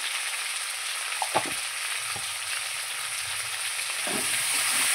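Potatoes fry in a pan with salt and turmeric, giving a steady close sizzling hiss throughout, with a few soft stirring knocks near the start and again near the end. No one speaks.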